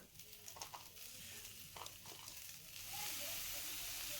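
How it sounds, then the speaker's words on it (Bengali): Hog plums dropped into hot spiced oil sizzle in a pan while being stirred, a soft, faint crackle with occasional scraping clinks, then a steadier hiss that swells near the end. "মশলা থেকে সুন্দর গন্ধ বেরোলেই আমড়াগুলো দিয়ে দিলাম তেলের মধ্যে এবার ভালো করে নাড়াচাড়া করে নেব"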